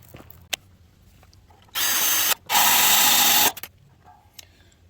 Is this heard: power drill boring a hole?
yes